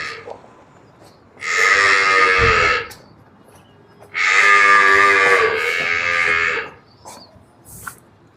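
Two long, loud lowing calls from buffaloes or cows, close by, each lasting over a second with a quiet gap between them.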